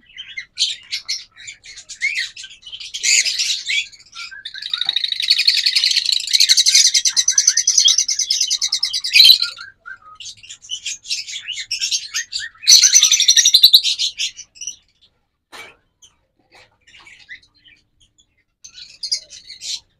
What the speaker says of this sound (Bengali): এগুলো প্রত্যেকটা ব্রিডিং করানো পাখি